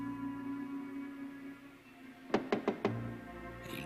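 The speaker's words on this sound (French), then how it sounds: "Il frappe à la porte." Four sharp knocks on a door in quick succession, distinct against a low steady hum of room tone, in a period detective drama scene.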